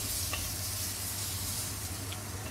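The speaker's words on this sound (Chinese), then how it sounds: "咁我哋慢慢将所有嘢炒香佢" Pieces of crispy fried pomfret fish sizzle in a hot wok with oyster sauce, a close, continuous hiss with faint scraping of stirring under it.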